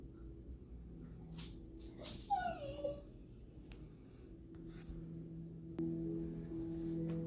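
Dogs whimpering and yipping in a room, a few short high whines near the middle over a steady low background hum, with no talking.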